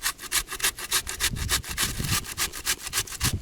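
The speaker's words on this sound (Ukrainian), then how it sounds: "натираємо грушку прямо в горох" Rapid rhythmic rasping strokes of a pear rubbed against a grater into peas for fishing bait, about eight scrapes per second, close and steady with no voices.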